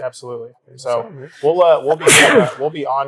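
A single sharp, breathy sneeze bursts out between men chatting on a bourbon podcast, standing out loudly from the surrounding conversation.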